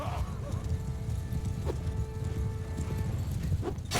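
Horse hooves clip-clop in a dense, busy battle in the video game Mount & Blade II Bannerlord. A short whinny rises above the hoofbeats and clashing.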